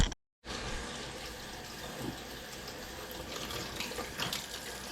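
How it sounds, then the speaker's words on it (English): Mint leaves are rinsed under a running kitchen tap, a steady broadband rush of water with brief gaps and a short silence at the start, close and fairly loud, with no talking. "Okay, now I'm washing our mint."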